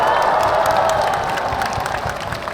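Audience applause fills a hall at a Democratic Party concert rally in Gwangju, a dense, steady wash of clapping mixed with crowd cheering that thins slightly toward the end.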